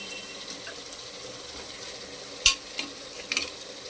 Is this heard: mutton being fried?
yes